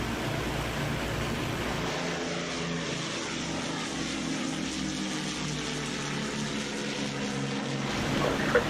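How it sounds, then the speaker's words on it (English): A propeller aircraft engine drones loudly through a takeoff, a continuous steady roar that swells slightly near the end, with no voices. "listen to the fantastic sound of the aircraft. These are real aircraft sounds."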